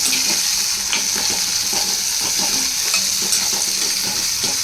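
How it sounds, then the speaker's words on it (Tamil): Onions sautéing in an oil-filled pan for a fish curry, a steady dense sizzle throughout with frequent scraping clicks from a stirring spoon, close and fairly loud with no talking. "வெங்காயம் போட்டு வதக்கி"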